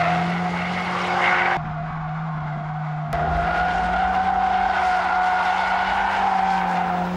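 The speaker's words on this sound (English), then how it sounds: "here is some vision of drift mode in action" A Mercedes-AMG A45 S slides in drift mode, its tires skidding and squealing in a long, loud continuous howl over the engine drone, with a brief dip midway before the screech resumes.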